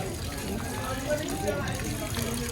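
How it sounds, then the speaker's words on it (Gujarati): Water gushes and runs steadily out of a fishing boat hauled from the sea at Porbandar, a continuous close rushing flow with murmured voices beneath it. "આખું પાણી નીકળે કામત જેટલું થોડુંક હતું એ."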